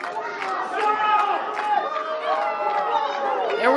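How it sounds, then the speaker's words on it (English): Crowd at a wrestling show roaring and shouting in a steady, lively din with voices rising and falling, a commentator talking over it. "Crowd giving it."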